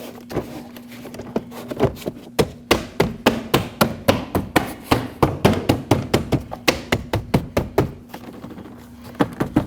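A door panel on a 2014-2023 Jeep Cherokee is pushed and pressed into place, giving a long series of sharp, close plastic thunks and taps that settle into a fairly steady rhythm, with no speech.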